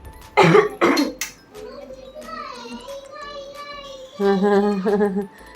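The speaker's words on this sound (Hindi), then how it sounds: "मेरे को खांसी है" Two harsh, loud coughs near the start, followed by a voice talking and a brief tonal vocal sound.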